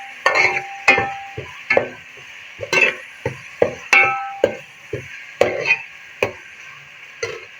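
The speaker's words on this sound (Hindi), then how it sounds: "ये 2 से 3 टेबलस्पून मेरे पास टमाटर है, ये शामिल कर देंगे। इसकी भी हम साथ में ही भुनाई कर लेते हैं।" Chopped tomatoes fry in a pan for an egg curry, with a steady sizzle under sharp, close spoon strikes and scrapes that land roughly every half second in a regular stirring rhythm.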